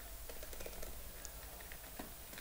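Quiet typing on a computer keyboard for Windows 10 setup commands, with scattered light key clicks in an irregular rhythm over a constant background hum.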